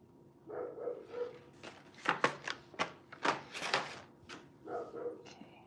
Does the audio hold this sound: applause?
no